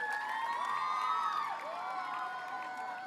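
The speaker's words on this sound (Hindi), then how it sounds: "प्लीज़ अपनी ज़ोरदार और जोशदार तालियों से भारत की बेटियों का हौसला बढ़ाइए और उनका वेलकम करिए" School audience cheering and whooping with scattered applause, voices rising and sliding in pitch, a lively continuous crowd roar that peaks midway and eases slightly.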